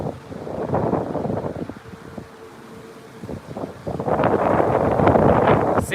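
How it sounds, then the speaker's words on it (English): Strong gusty wind whistling and blowing through a hollow tripod stick at a windy Heathrow planespotting spot, a loud continuous rushing roar with a thin faint whistle tone in the middle lull. "when the wind funnels through it, you can hear it like blowing and whistling"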